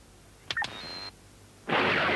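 An electronic detector in an animated cartoon gives a couple of quick beeps and then a sustained tone, followed by a burst of noisy static.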